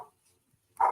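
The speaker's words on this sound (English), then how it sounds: "One of the dogs is not happy." One short, sharp dog bark rings out at the end after near silence, with a faint sound just before it.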